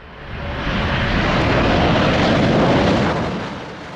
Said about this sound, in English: This Lufthansa catches Windshear just prior to landing and nearly tail scrapes his Airbus A350 when going around.